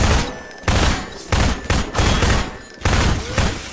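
Loud bursts of rapid gunfire from Half-Life 2, several sustained volleys of automatic shots separated by brief pauses, close and dense with no talk.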